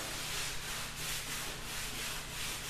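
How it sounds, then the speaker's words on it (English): A random orbit sander with 36 grit abrasive runs steadily over the wooden deck of a kayak under construction, a continuous close, loud hissing rasp with a slight pulsing rhythm. "I ran my random orbit sander with 36 grit."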